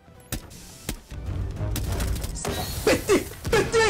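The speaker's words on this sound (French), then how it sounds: "En plus, elle a des grenades frag, les gars." Frag grenade blasts and rapid gunfire in a video game: sharp explosive cracks and booms over a continuous rumble, with bursts of shots near the end.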